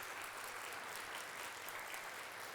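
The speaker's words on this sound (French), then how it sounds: "Vous pouvez les applaudir." An audience applauds at a French-language booksellers' prize ceremony in Montreal, steady dense clapping held at an even level throughout without a break.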